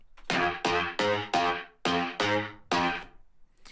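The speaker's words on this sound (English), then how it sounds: "this one is the one that's not going through the guitar amp" A Vital synth fake guitar patch played dry without a guitar amp sounds seven clean, bright plucked notes in a steady, slightly uneven rhythm, each fading fast before the next.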